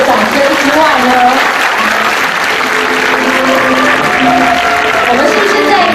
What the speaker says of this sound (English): a big round of applause for all of our participants